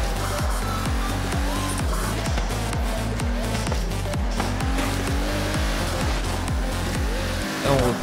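Racing car engine in Forza Horizon 3, revving loudly in repeated rising pulses through gear shifts, with a brief braking dip near the end, under steady game noise.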